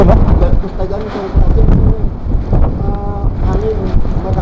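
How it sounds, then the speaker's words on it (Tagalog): Strong mountain wind at Buguias, Benguet buffets the microphone in loud, rough gusts while people talk close by. "Hangin, malakas."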